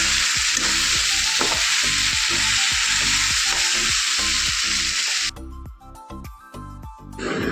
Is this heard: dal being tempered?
yes